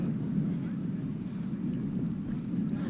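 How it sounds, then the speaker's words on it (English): Wind rushes steadily across a baseball field during a Yale versus Richmond varsity game, a low continuous roar with no voices, moderately loud and unbroken. "You can just hear that wind rushing in from left field."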